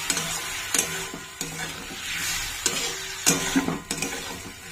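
Chili paste going into onions frying in a pan: a continuous sizzle broken by repeated rhythmic scraping and tapping of a spoon against the pan, close and moderately loud.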